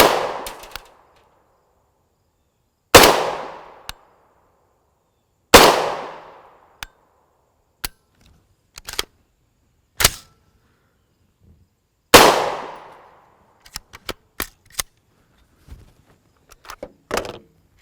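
Four sharp, loud rifle shots from a 300 AAC Blackout firing Sellier and Bellot 200gr FMJ rounds, spaced a few seconds apart with echoing decay, interspersed with lighter metallic clicks and clinks of handling.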